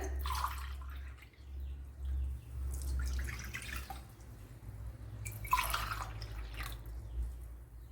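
One and a half glasses of water are poured for a Kerala rava breakfast dish, coming in three short, soft splashing pours separated by quiet pauses over a low hum.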